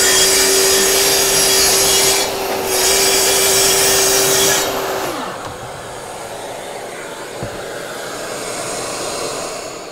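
A DeWalt track saw running on a Festool track whines steadily as it cuts through wood for about five seconds, then winds down, leaving a quieter background hum.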